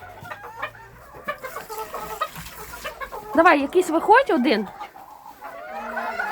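Bantam chickens cluck and squawk in a burst of close, agitated calls, with someone talking quietly before and after.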